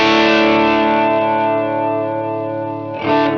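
Electric guitar through a Madbean Florist Chorus pedal, a sustained chord thick with chorus shimmer, added gain and hiss, ringing steadily for about three seconds before a fresh strike near the end, loud and close with no voice.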